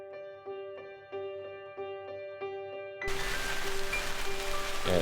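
Rain in the video game Vintage Story starts abruptly partway through, a loud, dense hiss of falling drops, following several seconds of gentle repeating musical chimes.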